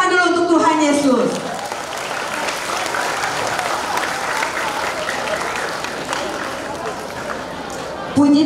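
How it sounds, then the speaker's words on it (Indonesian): Applause from a crowd at a national Sunday school jamboree, a loud, dense wash of clapping that fills the hall and holds steady for several seconds after a brief voice at the start. "Tepuk tangan dulu untuk Tuhan Yesus."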